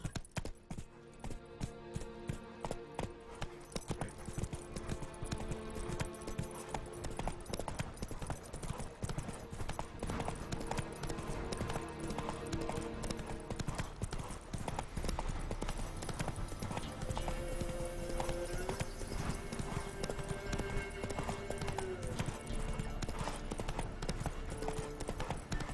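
Horse hooves clip-clopping at a steady trotting rhythm in The Witcher 3 video game, continuous and fairly loud throughout, with game ambience and occasional snorts mixed in.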